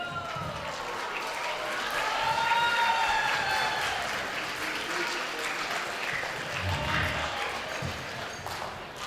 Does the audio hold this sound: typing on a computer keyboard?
no